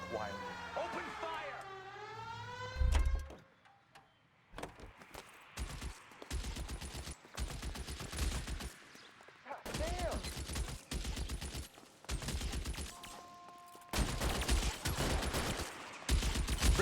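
Gunfire crackles through an L.A. Noire police shootout, with repeated sharp broadband bursts in rapid clusters after a siren-like wail and voices at the start, and a sustained tone near the end.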